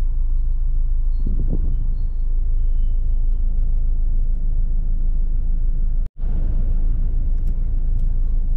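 Busy road traffic with buses passing near a mall transport terminal, a continuous low rumble of engines close by, a brief hiss like an air brake, and a sudden cut near the end.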